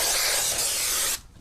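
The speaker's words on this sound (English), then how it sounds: "give it another spray down. Make sure there's no dirt on the rotors." Brake cleaner sprays in one loud, steady hiss across the bare rotors of a Mercedes Metris van, lasting just over a second before cutting off sharply.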